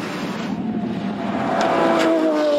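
A race car on the Top Gear test track during a Series 16 power lap, its engine loud and close at steady throttle, the revving tone climbing smoothly in pitch as it accelerates out of a corner.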